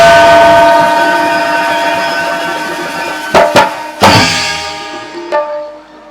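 A train runs with a loud, steady horn-like tone that slowly fades, broken near the end by a few sharp clacks and thumps close by.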